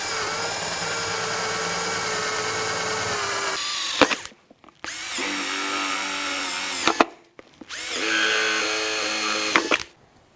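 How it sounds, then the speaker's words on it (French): A power drill bores drainage holes into a plant pot for tomatoes, whining steadily in three close bursts with short pauses between them. "nous allons d'abord procéder au perçage"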